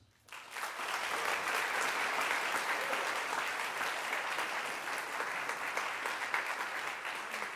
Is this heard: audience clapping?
yes